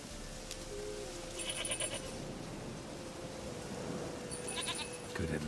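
A goat bleats in The Witcher 3 video game, two short nasal calls rising over a low, steady game ambience with a faint hum underneath.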